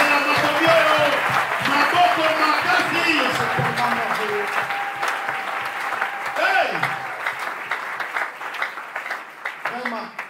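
A church congregation applauds and cheers, a dense wash of clapping mixed with whoops and voices that gradually thins out, with a preacher's voice speaking over it.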